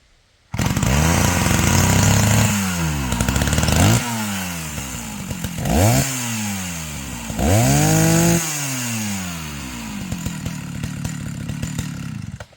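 An old 70E chainsaw engine runs loud and close, revving up and down in repeated surges and then settling into a steady idle.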